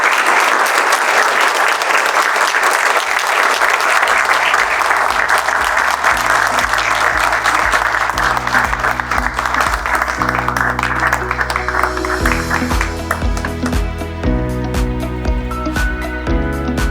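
An audience gives sustained, loud applause for the First Lady at a hospital oxygen project event in the Gambia; the clapping continues throughout as music rises beneath it and grows more prominent.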